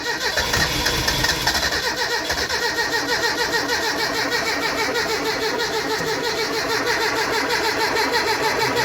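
A Mitsubishi engine swapped into a Dodge Challenger cranks over repeatedly with the clutch in, a steady mechanical churning that runs loud and continuous throughout without clearly catching.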